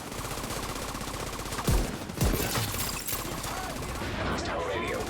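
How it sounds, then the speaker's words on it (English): Bursts of gunfire crack out in a busy video game soundscape, a couple of sharp louder shots standing above a steady wash of background noise. "I hear gunfire."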